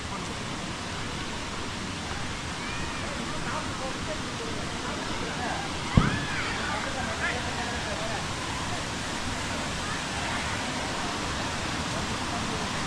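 A waterfall in the Javadhu Hills gives a steady, broad rushing roar at moderate distance, unchanging throughout, with a single brief knock midway and no clear voices.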